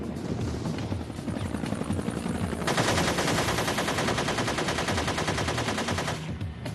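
Helicopters beat steadily in war footage while rapid weapons fire crackles in long bursts, loud and continuous with dense overlapping gunfire through most of the stretch and no talking.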